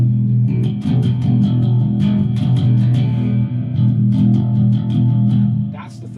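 Heavy distorted electric guitar layered with bass, played through a guitar amp, a thick continuous low-heavy wall of sound with picked attacks throughout, loud and steady for about six seconds before easing off.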